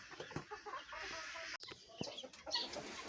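Partridges on a small farm give repeated clucking calls, moderately near over a steady hiss of outdoor background, with one sharp knock midway.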